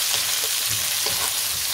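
Onions frying in a pan for aloo rice pulao, giving a steady broadband sizzle with a few soft stirring knocks, close and continuous with no talk.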